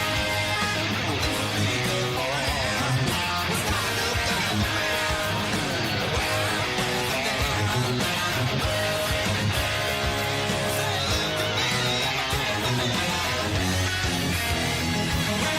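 Electric guitar drives through the chorus of a song in a dense, continuous full-band wash, with loud, fast rhythmic strumming and no break for the whole stretch.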